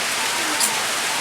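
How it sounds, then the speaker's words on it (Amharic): Steady, even hiss of rain falling outdoors, a dense, close wash of noise with no distinct drops, lasting only a moment. "ዝናቡ መጣ"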